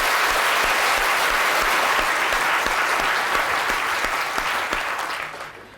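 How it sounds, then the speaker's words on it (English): At a Royal Institution Christmas science lecture, the audience gives a big, full round of applause that holds strong for several seconds before tapering off at the end. "Big round of applause"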